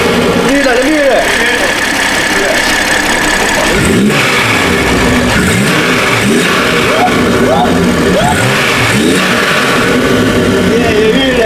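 Loud, close repeated blips from a BMW M440i fitted with aftermarket intakes, each sharp rise and fall of the engine note followed by a rumbling idle between revs, with excited voices talking over it.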